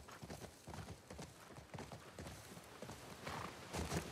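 Horse hooves clop in a steady, rapid rhythm in The Last of Us Part II, loud and close throughout over a dense game soundscape, with no voices.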